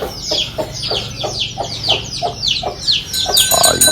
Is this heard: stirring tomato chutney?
no